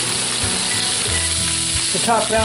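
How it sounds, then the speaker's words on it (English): Mushrooms hit a hot pan and sizzle steadily, a bright crackling hiss with light stirring scrapes, close and loud, made while cooking steaks with mushroom gravy. "I'm going to add my mushrooms"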